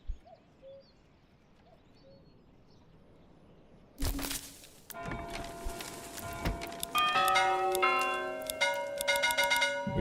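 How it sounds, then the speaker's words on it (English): A small, dull-toned bell in the medieval village-building game Manor Lords rings out with a sharp strike after quiet ambient birdsong, its ringing tones layered and sustained, with several further chimes following over the next few seconds. "We get the dumpy little bell."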